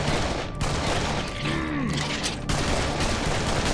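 Rapid gunfire from the video game Serious Sam 3: BFE blasts in a dense, continuous volley, loud and close, with no talking over it.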